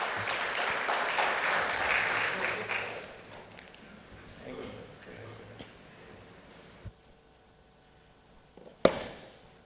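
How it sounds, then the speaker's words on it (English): Audience clapping as a speaker walks onto a stage at a seminar, loudest at first then thinning out into scattered claps and a few thuds, followed by near silence and a sharp bump. "Can we have a big round of applause for CA Nishant when he walks onto the stage?"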